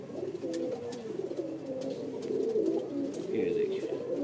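A highflyer pigeon coos in soft, repeated low warbling phrases, close by, while someone talks over it.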